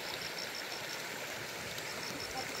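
Continuous flowing stream water, a steady broadband rush and babble with no pauses, fairly close and even in level.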